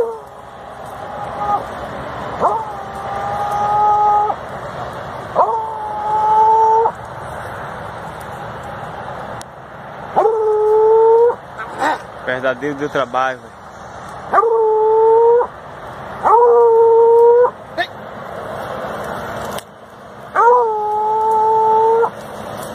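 American Foxhound hunting armadillo, giving repeated drawn-out baying howls and barks at irregular intervals, fairly close, with someone speaking briefly between calls.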